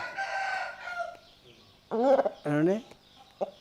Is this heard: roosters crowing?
yes